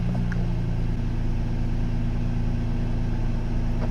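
A car engine idles steadily while a Jackery Explorer 240 v2 portable power station recharges from a 12 volt car port, a constant low drone with no speech.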